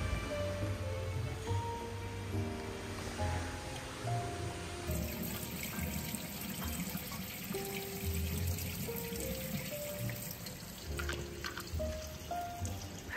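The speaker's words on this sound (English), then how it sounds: "Going for one more cup of water before we go." Water from a spa fountain pours and trickles steadily into a cup at the Montecatini Terme thermal baths in Tuscany, a continuous close splash over a busy background hum, with no talking.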